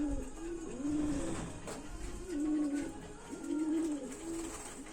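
Pigeons coo in repeated soft, throaty phrases, fairly close, with a faint background hum.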